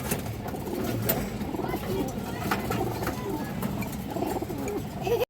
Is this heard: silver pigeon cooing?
yes